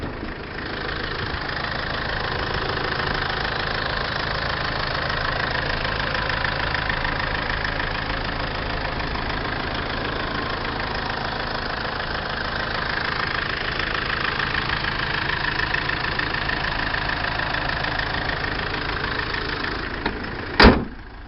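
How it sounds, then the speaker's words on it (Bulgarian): A 4x4 car's engine idles steadily and close up for the whole stretch, a continuous even rumble with a faint knocking texture, ending in a brief sharp knock. "Сега ще ви покажа и двигателя."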